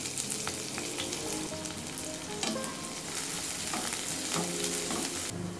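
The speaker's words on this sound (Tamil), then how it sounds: "எண்ணெய் சூடேறினோடனையும் பெரிய வெங்காயம் இந்த மாதிரி நைஸாக வெட்டி வச்சுக்கோங்க. இதை இப்போ நம்ம எண்ணெயில் சேர்த்து வதக்கலாம்." Finely sliced large onions sauté in hot oil, giving a close, bright crackling sizzle with stirring scrapes and pops, steady for a few seconds with no talk.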